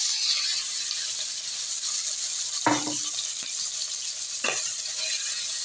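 Prawns frying gently in a pan give a steady low sizzle, broken twice by short scraping stirs of a spatula against the metal.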